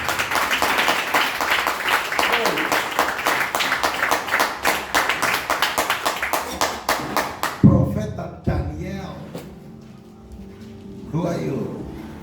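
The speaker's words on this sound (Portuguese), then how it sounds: "Alguém pode glorificar a Deus com palmas?" A church congregation claps hands in a fast, steady rhythm for several seconds, then it stops and a few scattered sounds and a voice follow.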